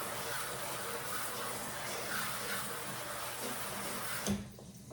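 Continuous rush of running water rinsing salt water off strained eggplant, steady and close, cutting off abruptly near the end.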